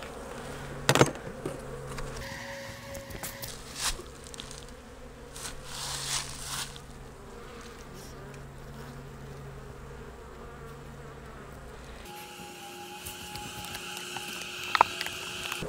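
Honey bees buzz steadily around an open hive during beekeeping, individual bees droning close by with occasional taps and clicks.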